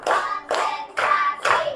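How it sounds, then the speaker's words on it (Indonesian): A classroom of pupils claps together in a steady rhythm, four bright group claps about half a second apart with a hum of children's voices under each burst. "Tepuk 1. Tepuk 2. Tepuk 3. Tepuk 4."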